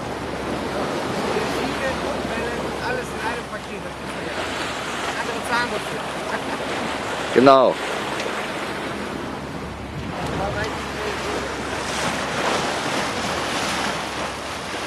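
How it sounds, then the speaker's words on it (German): Heavy open-sea waves about 20 meters high surge and wash continuously around a yacht under rushing wind noise, with a brief spoken word near the middle. "20 Meter hohe Wellen."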